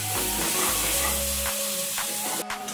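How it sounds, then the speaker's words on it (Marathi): Tomatoes being sautéed in a pan for a chicken curry give a soft, steady sizzle and hiss. Low hums and brief knocks run underneath, and a sharp scrape or clack comes near the end. "टमाट्याला व्यवस्थित यांच्यासोबत परतून घेते"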